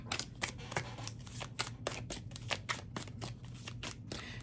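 Tarot cards being shuffled nearby, a steady run of quick riffling snaps and soft slaps over a low background hum, with no talking.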